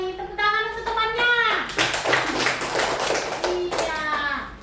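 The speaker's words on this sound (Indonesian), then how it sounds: "Tepuk tangan untuk temannya." Schoolchildren in a classroom give a short burst of clapping for a classmate, with a teacher and children speaking over and around the applause.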